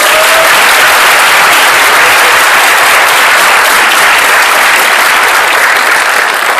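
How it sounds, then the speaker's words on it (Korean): Loud, dense applause from a large lecture audience welcoming speakers, a steady unbroken roar of many hands clapping throughout with no talk over it. "여러분 박수로 환영해 주시기 바랍니다"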